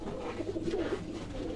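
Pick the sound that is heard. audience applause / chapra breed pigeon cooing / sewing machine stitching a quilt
chapra breed pigeon cooing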